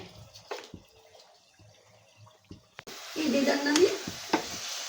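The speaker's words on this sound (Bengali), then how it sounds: "দেখো এইভাবে নাড়তে নাড়তে এরকম পজিশন হয়ে যাবে" Patisapta filling is stirred in a pan on a gas stove, with a few scattered scrapes at first, then a louder sizzling, scraping stir in the last two seconds.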